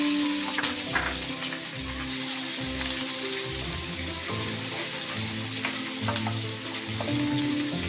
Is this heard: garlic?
yes